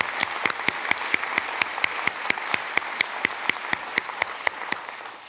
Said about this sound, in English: how about one more round of applause for Bob Webster and all of our awardees today